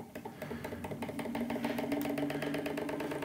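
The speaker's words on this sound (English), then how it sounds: "the engine's under high load powering this LED." A small homemade Stirling engine generator runs slowly under heavy load while powering an LED, giving a faint, steady, rhythmic chugging whir close by with no talking.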